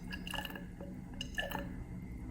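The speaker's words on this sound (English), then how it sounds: "We're going to pour some water into this" Water poured into a 50 ml glass measuring cylinder in a lab setting, giving faint trickling and dripping splashes in a couple of short bursts, quiet and close.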